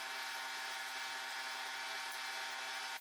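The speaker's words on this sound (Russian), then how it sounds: "С одной стороны центровочным сверлом на 5." A centre drill boring into a steel torsion bar on a lathe, a steady high metallic whine with a faint hum underneath, continuous for about three seconds before cutting off abruptly.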